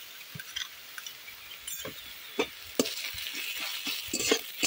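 Green chili paste frying with browned onions in a pan, a quiet steady sizzle broken by repeated utensil scrapes and light clinks of stirring, with no voices.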